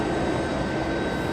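A FedEx freighter pushes back from the gate at East Midlands Airport, its engines giving a steady, broad roar with a faint high whine on top. The sound holds even throughout the short stretch, with no voices.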